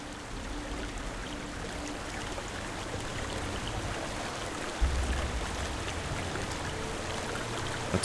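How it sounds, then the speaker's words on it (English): Steady rushing waterfall in Hellblade: Senua's Sacrifice, a dense continuous wash of falling water heard close and loud throughout, with a brief low thump near the end. "Whoa. In the waterfall."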